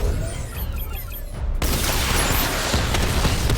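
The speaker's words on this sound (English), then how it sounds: "Charge up missile barrage to level 2 and destroy 4 active targets" A Batmobile missile barrage fires in Batman: Arkham Knight. Faint whistling launches open the clip, then a sudden dense wall of rumbling explosions takes over and holds at full loudness to the end.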